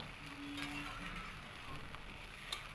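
A cup of milk goes into a hot pan of fried spices and pointed gourd, setting off a steady, close sizzle that hisses evenly throughout with no talking.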